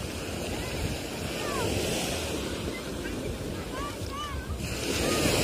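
Sea waves wash onto a beach in Mezitli, Mersin, Turkey, a continuous broad rush with wind noise on the microphone and distant bird-like chirps, while voices talk faintly in the background.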